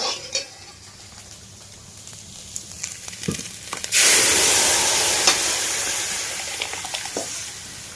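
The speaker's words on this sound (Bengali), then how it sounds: "এবার ডালটা দিয়ে দেবো।" Dal poured into a hot pan while muri ghonto cooks bursts into a loud, steady sizzle partway through, after quieter stirring clinks and scrapes; no voices.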